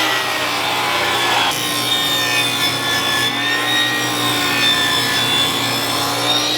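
A saw rips a 2x6 wooden board lengthwise for sauna trim, a loud, continuous cutting roar with a steady whine running the whole time and no voices.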